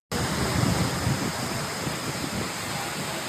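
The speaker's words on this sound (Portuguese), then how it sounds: "tem uma cena do Floki nessa cachoeira." Thundering roar of Skógafoss, a large waterfall in Iceland, a steady dense wash of falling water heard close and loud throughout with no voices.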